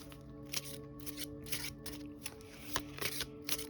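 Oracle cards are shuffled for a reading, a quiet run of close, papery riffling bursts and soft flicks repeating in uneven rhythm.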